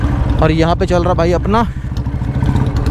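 A Royal Enfield Bullet motorcycle with a Mini Punjab exhaust runs close by with a steady low thumping idle, loud beneath someone talking at the start.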